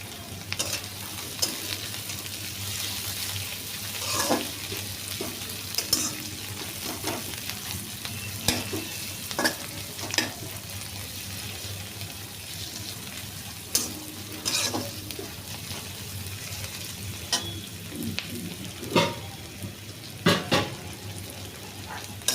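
Sliced capsicum with softened onion fries in oil in a pan for mushroom curry, a steady low sizzle broken by irregular scrapes and clinks of a spatula stirring, no voices.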